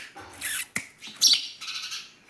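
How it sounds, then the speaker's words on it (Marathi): A house sparrow and its chicks indoors by a window give a few short, sharp chirps and squawks, close and bright, separated by brief quiet gaps and a soft thud. "ती चिमणी आणि इकडे 2 पिल्लेत."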